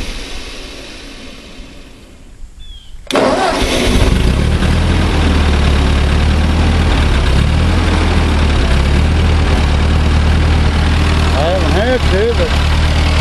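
A Ford 8N tractor engine, under rebuild, is quiet before cranking and then catches and fires up abruptly around three seconds in, settling into a loud, steady, close-up idle with low chugging; a voice speaks over it near the end.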